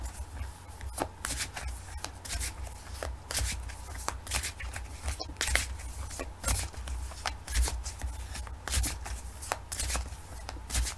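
A deck of Mystic Dreamer tarot cards is shuffled repeatedly, producing quiet, close riffling bursts and soft card slaps at irregular intervals.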